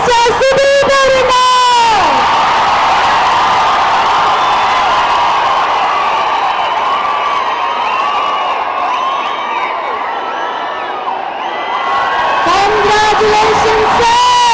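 A large crowd roars, whoops and cheers continuously to welcome Kichcha Sudeep onstage at the Max film success meet, loud and sustained, with shouted voices rising above the din throughout.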